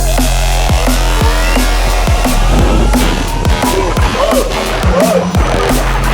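An Exway Flex electric skateboard accelerates hard in a drag race: a loud, close rolling rumble with rising motor whine and repeated sharp clacks over seams in the ground.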